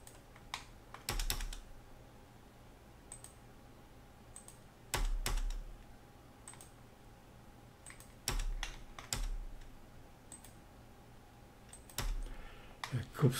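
Computer keyboard typing and space bar presses while drafting plumbing estimate drawings on a PC: quiet clusters of sharp key clicks in short bursts, separated by pauses, with no talking.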